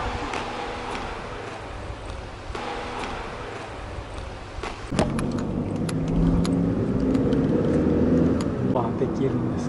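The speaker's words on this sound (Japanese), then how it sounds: "見て、お迎えの車来た。" A pickup car arrives on a Shikoku trip near Muroto Cape: a road vehicle's engine rises and grows louder partway through, with a jingling of keys and people talking nearby.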